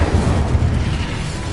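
A loud, sustained magical fire blast from the Incendio spell in a Harry Potter setting, a dense, rumbling roar with heavy low-end weight that holds steady for over a second without a break.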